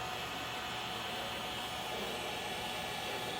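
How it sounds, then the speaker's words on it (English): Heat gun blowing hot air to shrink heat-shrink tubing over trailer brake wire connections, a steady, fairly close, broadband blowing hiss with no variation and no talking. "We'll take our heat source and we'll shrink them up."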